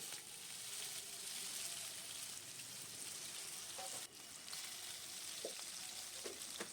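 Cubed potatoes fry in oil in a pan, making a steady, dense, hissing sizzle with a few faint clicks, and nobody speaks.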